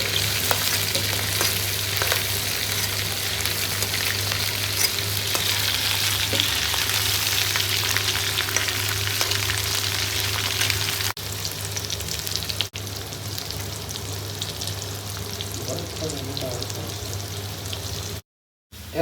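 Giant freshwater prawns fry in oil in a pan, giving a loud, steady sizzle that runs unbroken for a long stretch with faint stirring clicks, before cutting out abruptly at the end.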